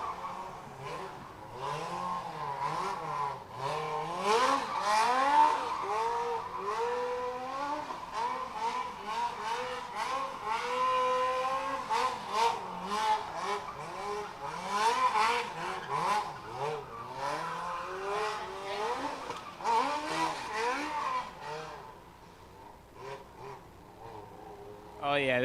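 Loud race car running at a drag strip test and tune session, its engine revving and roaring steadily with rising and falling pitch for the whole stretch, with a voice talking underneath.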